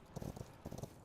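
Horse hooves clip-clop in the video game Rust, a short run of several quick, moderately loud hoofbeats in two bursts with no talking.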